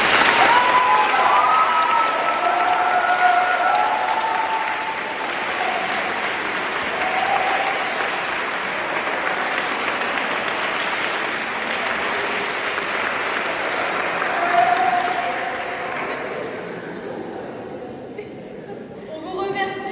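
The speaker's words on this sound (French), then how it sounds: "Je vous demande de les applaudir bien fort." Sustained audience applause at a Halloween mock-trial show, loud and steady for about twenty seconds with some crowd chatter mixed in, tapering off near the end.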